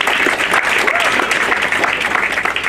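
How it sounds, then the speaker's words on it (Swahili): Steady applause from a graduation ceremony audience clapping for the faculty, a dense continuous wash of many hands at even loudness throughout, with no distinct voices above it. "Tupigie faculty makofi tafadhali"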